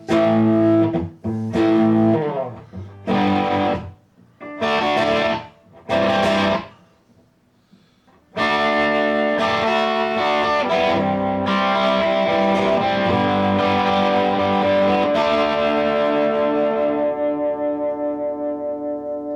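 An Epiphone Les Paul 1960 Tribute Plus electric guitar with mild distortion plays choppy chords with pauses, then rings out a long sustained passage that slowly fades.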